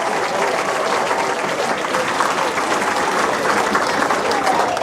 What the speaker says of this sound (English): Let's hear it one more time for Richard Cooper.